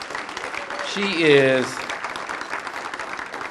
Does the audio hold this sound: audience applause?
yes